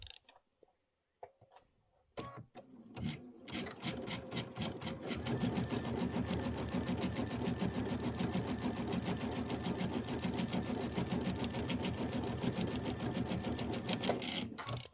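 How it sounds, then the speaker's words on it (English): Sewing machine stitching pieces of a Kimberbell Hello Sunshine quilt block, starting after a few soft handling clicks and then running in a steady, fast, even rattle close by, with no talk. "I was zoning out and I just kept sewing"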